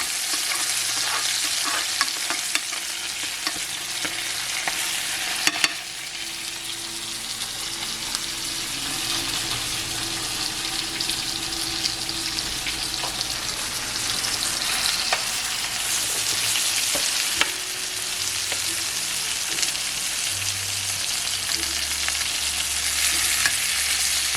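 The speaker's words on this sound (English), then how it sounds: "Let that rosemary fry up nice and well." Rosemary fries alongside a T-bone steak in a pan, giving a loud, continuous sizzle with stirring and occasional scrapes and clatters, and no talk.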